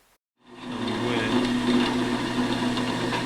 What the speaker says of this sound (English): we're going to use a counter bore to create a surface for a bolt head to sit inside the knuckle